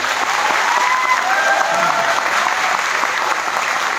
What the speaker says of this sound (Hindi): और मैं चाहता हूं कि जोरदार ताली इंडियन आर्मी के लिए होनी चाहिए,